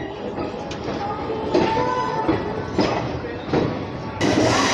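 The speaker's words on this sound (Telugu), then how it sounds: "ఫస్ట్ ప్లాట్ఫామ్కి అయితే వెళ్తుంది మన ట్రైన్." A train pulls into the first platform at Vijayawada station with a steady low rumble, periodic clacks of wheels over rail joints and a rising hiss near the end.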